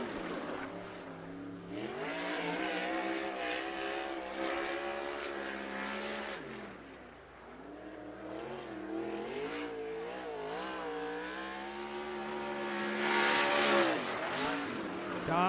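A sprint car at Sunset Speedway Park laps the dirt oval, its engine note rising and falling as it passes near then fades, swelling loud again toward the end, with no talk.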